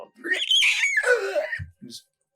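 A human voice imitates a wraith screeching as holy flames touch it during a fantasy tabletop role-playing game, one long rising and falling shriek, loud and close, followed by a brief low grunt.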